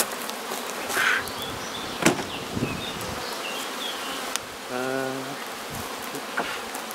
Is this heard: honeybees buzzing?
yes